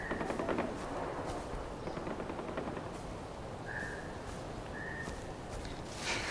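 Rapid gunfire crackles through a dense firefight in the video game Far Cry 4, bursts of shots layered over a constant busy background, with a couple of brief whistling tones mid-scene.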